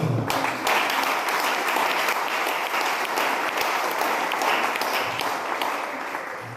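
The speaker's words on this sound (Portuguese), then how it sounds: "Aplaudindo ao Senhor." A church congregation at a Baptist service in Ubaporanga, Minas Gerais, applauds in loud, sustained, dense clapping that keeps going evenly and fades slightly toward the end.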